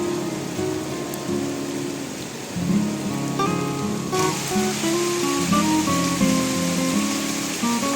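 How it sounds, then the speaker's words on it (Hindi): Rain falls steadily and heavily under dark clouds in Uttarakhand with a constant hiss, while tonal background music plays underneath; no one speaks. "काले बादल छा गए हैं और बारिश तेज़ हो चुकी है"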